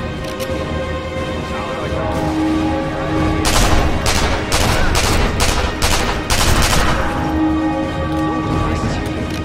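Gunfire in the video game Sniper Elite V2: a rapid volley of sharp shots bursts out mid-clip over a steady game background hum, loud and close, with scattered quieter reports afterward.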